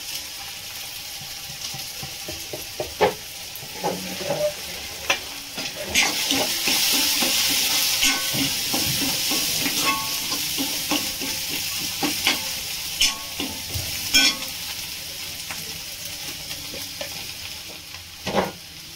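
Spices fry in a hot pan for an aubergine and green lablab bean curry, a continuous close sizzle that swells midway, dotted with stirring clinks and scrapes.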